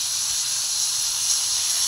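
Potatoes going into cauliflower already frying in hot oil, giving a steady, loud, close sizzle that holds evenly throughout with no talk.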